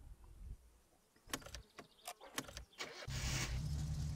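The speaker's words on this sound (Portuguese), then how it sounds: "Tá ligando de boa o carro ainda" Car engine starting in My Summer Car, fitted with a new carburettor and turbo: a series of sharp clicks and clunks, then the engine catching and settling into a loud, steady running drone.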